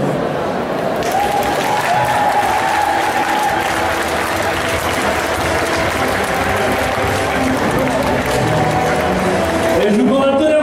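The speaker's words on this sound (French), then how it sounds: "Et je vous demande un tonnerre d'applaudissements" A large indoor crowd at the Yggdrasil festival cosplay contest claps in a loud thunder of applause, with cheering and voices woven through the sustained roar.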